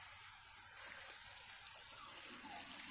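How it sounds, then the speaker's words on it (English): Water spraying steadily onto a garden bed of sprouting onions and seedlings, a continuous soft hiss and splash close by with no pauses and no talking. "back to watering"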